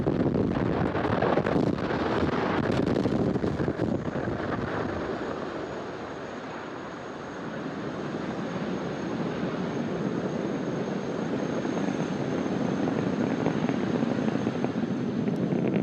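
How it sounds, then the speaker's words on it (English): A SpaceX Falcon Heavy rocket lifts off from Launch Complex 39A at Kennedy Space Center, a dense, continuous rumbling roar from afar, heavily buffeted by wind, dipping briefly mid-way before building again. "Falcon Heavy has successfully lifted off from Launch Complex 39A at Kennedy Space Center"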